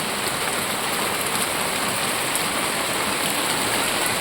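Heavy rain pours steadily and loudly, a dense continuous hiss with no pauses and no voices.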